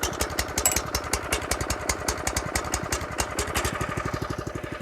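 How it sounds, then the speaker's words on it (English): A lawn mower runs on a putting green at night, a close, steady pulsing engine chatter with rapid regular firing beats that quicken slightly toward the end, no voices. "I'm mowing my lawn"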